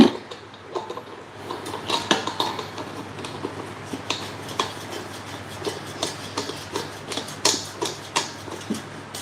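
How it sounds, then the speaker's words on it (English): Metal struck with a hammer on an anvil at a blacksmith's forge, a steady series of sharp ringing clanks at a regular working rhythm over a low background hum. "Yes, I do have to stand on something at Sam's anvil."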